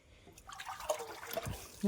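Water trickles and splashes as it is poured into a pot, a soft, uneven liquid sound with some handling noise, while people talk nearby.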